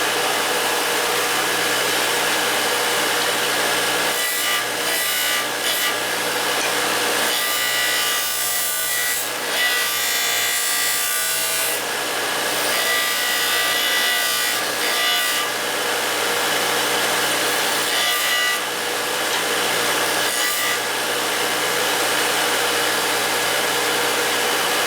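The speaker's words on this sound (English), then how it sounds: "I gotta grind all these nicks out right now," A grinder working the nicks and cut marks out of a custom metal bracket, a continuous loud abrasive whir with repeated short pauses and changes in pressure as the tool moves across the piece.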